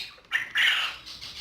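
Pet budgies give a few short, harsh squawks and chirps close by, in bursts separated by brief pauses.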